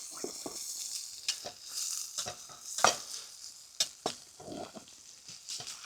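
Food stirred in a pan over hot coals at a campfire, a soft close sizzle broken by repeated scraping strokes and light metal clinks at an irregular pace.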